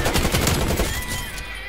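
Rapid, loud gunfire in the Call of Duty Black Ops Cold War video game, a dense continuous burst of shots that thins and fades toward the end.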